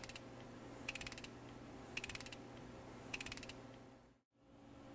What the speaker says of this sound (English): we take our wrench, install it onto the hex, and make sure that it's going in a counterclockwise direction